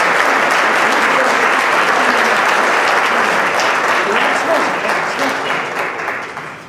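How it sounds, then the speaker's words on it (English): Loud, steady applause from a large crowd fills the space, then gradually thins and fades toward the end. "I think I just heard the applause die down."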